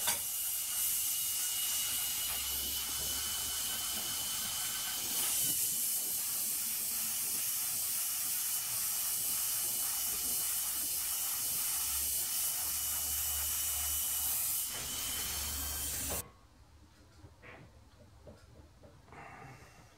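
A torch hisses steadily as it heats a stuck part near a pin wrench, a loud continuous broadband rush that holds for about sixteen seconds before cutting off to quieter workshop background.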